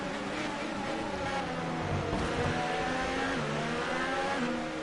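Formula 1 engines in F1 2018 scream at high revs during an overtake at the Russian Grand Prix, a continuous loud, layered engine whine with shifting pitch as the cars run close together.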